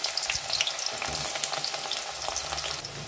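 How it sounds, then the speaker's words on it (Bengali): Onions frying in hot oil into crisp beresta for restaurant-style mutton biryani, a steady close sizzle with bright crackling pops and occasional stirring scrapes running throughout. "এদিকে আমি পেঁয়াজের বেরেস্তাটা বসিয়ে দিয়েছি।"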